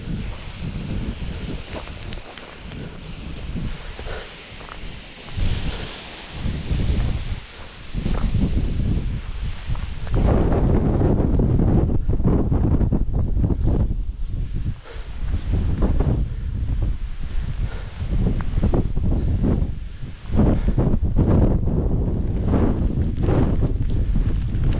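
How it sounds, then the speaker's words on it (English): Strong gusty wind buffets the microphone on a fell summit near Whitestones on Skiddaw in the Northern Fells, roaring loud and close in surging waves for about twenty-five seconds, with no voices. "wind's still here"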